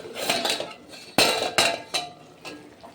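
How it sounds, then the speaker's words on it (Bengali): A lid comes off a pot of bean curry with a few sharp metallic clanks and clinks close by, then quieter rattling of cookware. "ঢাকাটা খুলে দেখাচ্ছি"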